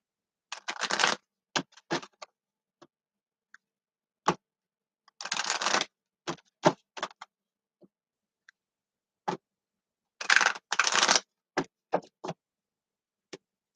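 Playing cards are riffled and shuffled in three quick bursts, with soft taps and card snaps between them, close and clear in a quiet room.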